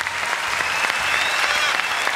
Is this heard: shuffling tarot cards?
no